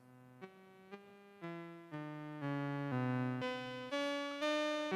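A111-6 oscillator on a modular synth, its pitch stepped by random control voltages: a bright buzzy tone jumping between notes in short steps, getting louder and higher over the last few seconds, no voice.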